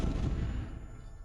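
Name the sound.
explosion from a flaming sword strike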